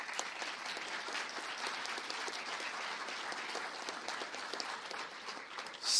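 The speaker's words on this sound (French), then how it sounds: "On peut les applaudir, s'il vous plaît." Steady applause from a graduation ceremony audience in Gatineau, a thick continuous wash of many hands clapping for several seconds at an even level, with no voices over it.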